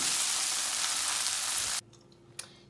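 Okra fries in a pan with a loud, steady hiss and crackle that cuts off abruptly, followed by near quiet with a faint clink.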